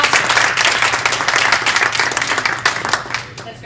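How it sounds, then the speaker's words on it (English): An audience of participants at a debrief, gathered with a state representative, breaks into a loud round of applause, many hands close by in dense clapping that slowly thins toward the end, with a faint murmur of voices underneath. "I just want to give everyone a round of applause because you guys were awesome."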